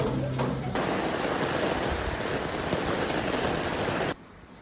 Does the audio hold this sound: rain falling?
yes